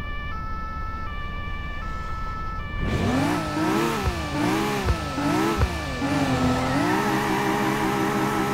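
A BMW M4 in the Cobra 11 Highway Nights video game at full throttle: a synthetic engine drone that climbs and falls through repeated gear shifts after a steady tone, loud and continuous with no talk.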